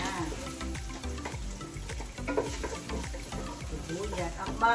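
Garlic sizzles in a pan with ground meat, ginger and onion, a steady crackling fry broken by scraping stirs and clinks, close up and moderately quiet.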